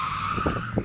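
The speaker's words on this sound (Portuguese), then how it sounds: "Não é que fez drift mesmo?" A short burst of tire skidding from a drifting Camaro, a sustained squeal over engine rumble, close and fairly loud.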